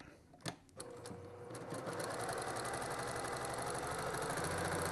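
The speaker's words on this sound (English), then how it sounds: "I'm just sewing right off like you run through first base" Sewing machine stitching a quilt seam for a pinwheel quilt, with a steady, fast mechanical whir and rapid needle clatter that runs continuously after a couple of brief handling knocks at the start.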